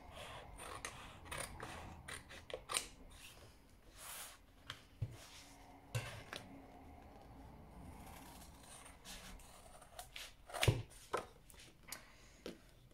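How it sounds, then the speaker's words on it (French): Scissors cutting out an illustration from a magazine page, a steady run of short close snips and paper rustles with brief pauses, fairly quiet and without speech. "je vais découper ici l'illustration"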